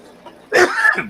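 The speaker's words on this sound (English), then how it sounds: "I've had a few of those today that are big coughs" A single loud, close cough, harsh and rasping, bursting out after a brief quiet moment.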